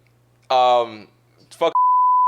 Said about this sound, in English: put your phone up for a timestamp so I can bleep this name out